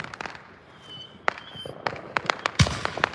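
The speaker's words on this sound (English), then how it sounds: "they've been shooting off some fairly significant fireworks out here" Fireworks and firecrackers on the Fourth of July, with sharp pops and bangs scattered irregularly across the clip and one heavier boom near the end, heard from outdoors at moderate distance.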